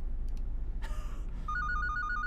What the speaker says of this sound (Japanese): 電話かかってきたびっくりした